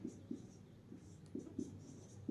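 Chalk or a marker taps and scratches on a board during a class 10 maths lesson, making soft periodic strokes at a steady, unhurried pace, faint and close, with a voice murmuring quietly in the background.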